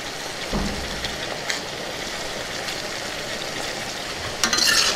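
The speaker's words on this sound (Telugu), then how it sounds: "మొత్తాన్ని ఒకసారి బాగా కలుపుకుందాం" A brinjal and peas curry sizzles and fries in a pan while being stirred, with soft scraping strokes over a steady hiss and a louder burst of frying near the end.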